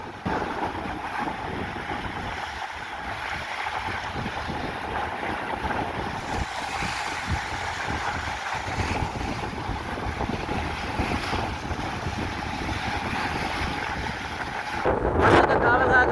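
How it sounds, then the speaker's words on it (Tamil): Rough sea and wind roar together in a steady, broad rush during a coastal storm surge flooding onto the street, with a louder burst of crashing water near the end. "தொடரும் கடல் சீற்றம் பாருங்க"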